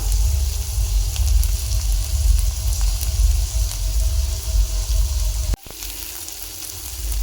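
Curry leaves dropped into a pan of cooked tomatoes sizzle and fry steadily, a loud close crackling hiss that dips briefly near the end and then carries on.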